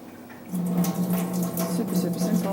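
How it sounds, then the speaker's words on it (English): Soaking water drained off mung beans, a steady pouring and trickling wash of liquid that swells louder after the first half-second and runs on continuously at close range. "So we're just draining out the water."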